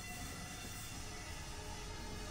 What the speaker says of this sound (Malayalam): 5 എഞ്ചിൻ വെച്ചിട്ടാണ് ഈ ഒരു ഗുഡ്സ് ട്രെയിൻ ഈ ഒരു പാളത്തിലൂടെ ഈ ഒരു റൂട്ടിലൂടെ ഓടുന്നത് കേട്ടോ